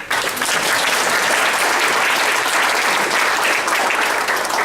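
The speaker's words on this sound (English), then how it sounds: "So applause there." An audience at a candidate forum at Pacific University claps in steady, loud, sustained applause that fills the whole stretch with no pause.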